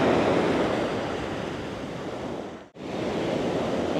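Ocean waves wash onto a Florida shore in a continuous loud roar of surf, briefly dipping to near silence before the rush resumes.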